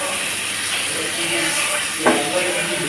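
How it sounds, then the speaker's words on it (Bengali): Rohu fish fry in a pan with a constant loud hissing sizzle, broken once by a short clatter as the pieces are turned, while someone talks. "মাছগুলো আমি ভালোভাবে উল্টিয়ে নিয়ে আবার ভেজে নেব।"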